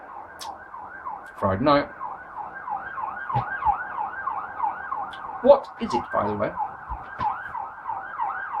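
An ambulance siren passes outside, its wailing tone rising and falling steadily at moderate distance while someone talks over it indoors.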